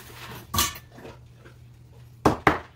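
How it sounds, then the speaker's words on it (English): A cutting mat and a knife are pulled out in a kitchen, giving a few sharp clatters and knocks. There is one early and two close together near the end, with quiet rustling between them. "get out a cutting mat, find a knife"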